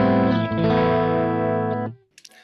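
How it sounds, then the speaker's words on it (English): A Kemper Profiler guitar amp with a slightly clean tone sustains a rich chord that rings for about two seconds, then cuts off, leaving brief faint noise. "This is the amp sound, a slight clean sound."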